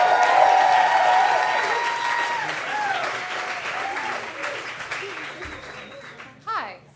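A comedy club audience claps and cheers for a comedian in a dense burst of applause that slowly thins out, with a few whoops and a host's voice near the end.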